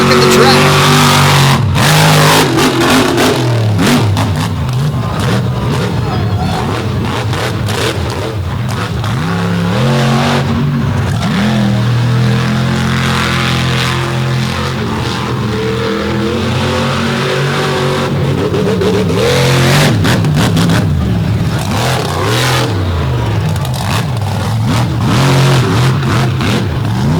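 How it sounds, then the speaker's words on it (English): Sprint car engines roaring around a muddy dirt track during the All Star championship finals, a loud continuous wail of revving and accelerating race engines with a commentator talking over it throughout. "But Snyder's working the track"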